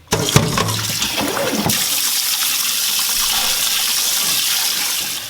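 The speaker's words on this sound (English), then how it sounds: "Let's go ahead and strain this, and we're gonna rinse it in cold water so it doesn't get sticky." Cooked tapioca pearls poured into a strainer and rinsed under cold running water, starting with a few clatters and splashes, then settling into a loud, steady rush of water with no talking.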